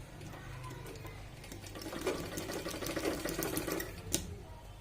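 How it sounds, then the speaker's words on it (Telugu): Sewing machine running a top stitch along a blouse with maggam work, a steady mechanical whir with rapid needle clicks, moderately loud and close, with no talk. "ఇప్పుడు పైనుంచి టాప్ స్టిచ్ వేయాలి"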